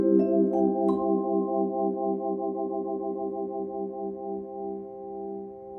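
Vibraphone with motor-driven fans spinning inside the resonators, ringing a few struck notes that sustain with a steady pulsing vibrato wobble, slowly fading, close and alone.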